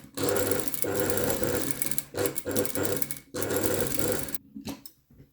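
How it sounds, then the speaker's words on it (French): A sewing machine stitches a tailored collar in close, loud runs of rapid mechanical whirring, broken by short pauses and a few brief bursts before stopping. "Et je vais coudre tout ça à la chaîne, à la queue au plus vite"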